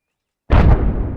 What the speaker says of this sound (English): And now the bomb should be falling right onto the target.